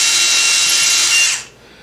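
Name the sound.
power drill drilling holes in a wood bowl blank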